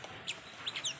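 Quick, faint chirpy squawks from a bird, several brief calls in a second over a soft background hiss.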